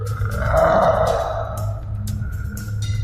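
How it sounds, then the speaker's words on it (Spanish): A low, rumbling growl from an unseen creature during a paranormal encounter, sustained and fairly loud for a couple of seconds before fading into a quieter rasp. "Teníamos algo que nos estaba gruñendo."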